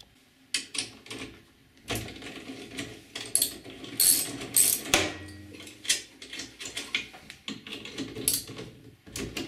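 Ratchet wrench clicking in short bursts while unbolting the original mounting brackets from a Rock-Ola jukebox, close and fairly loud, with metallic clanks of parts being handled between runs of quick pawl clicks.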